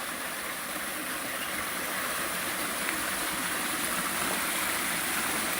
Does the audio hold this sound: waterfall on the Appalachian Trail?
yes